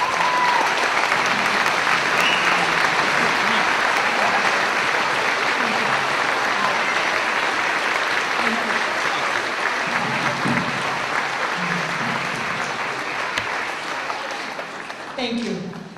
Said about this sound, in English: So please stand and give these guys a huge round of applause.